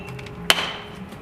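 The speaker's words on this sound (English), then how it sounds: "you want to basically use the weight of the head of the hammer to cut the brick" A bricklaying hammer's head drops onto a brick to split it, giving one sharp, close crack followed by a brief ringing decay, with otherwise quiet surroundings.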